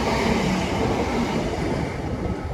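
West Midlands Railway class 323 electric unit 323205 rumbles past close by in a steady, loud roar of wheels and motors with no voices.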